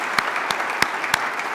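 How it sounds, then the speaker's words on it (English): Applause from a convocation audience at a university founding day ceremony, a soft, continuous patter of many hands with a few louder individual claps popping out at roughly regular intervals, and no voices over it. "Everybody give her a round of applause."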